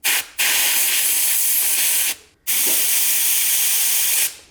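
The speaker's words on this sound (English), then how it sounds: "use compressed air to blow them out and clean them" Compressed air blowing out brake lines on a BMW 850i V12: two long bursts hissing loudly, each lasting about two seconds, separated by a brief pause.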